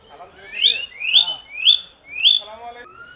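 Birds, probably mynas, at a safari park in Gazipur repeat four clear rising whistled calls in an even rhythm, fairly close and loud against quiet surroundings.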